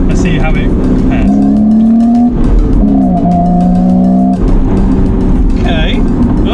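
A BMW Z4 engine revs hard, with tyres squealing in drawn-out tonal wails, loud and close throughout.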